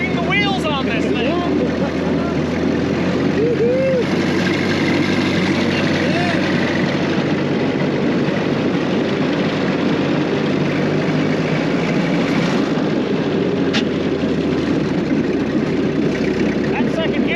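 A vintage rail cart speeder runs along train tracks in southern Utah, its engine droning steadily and loudly throughout, while people talk and whoop over the noise.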